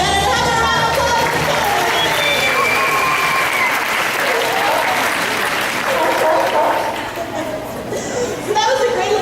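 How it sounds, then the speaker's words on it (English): Crowd applause at a sea lion show in an aquarium, loud sustained clapping mixed with cheering and children's voices, steady throughout with a brief dip near the end. "Have a round of applause"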